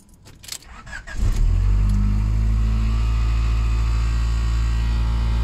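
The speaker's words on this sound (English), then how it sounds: "car's back up and running again." A 1994 Honda Accord engine turns over and starts after an ignition repair, then settles into a steady, loud idle that hums on without a break.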